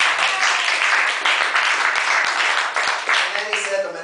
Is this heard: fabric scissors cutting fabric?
no